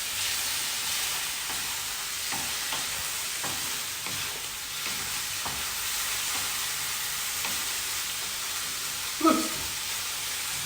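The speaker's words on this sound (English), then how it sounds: "just saute it for a couple of, maybe a minute or two max" Corned beef with chilies and onions sautés in a pan with a steady, close sizzle and occasional stirring scrapes, including one sharper clank near the end.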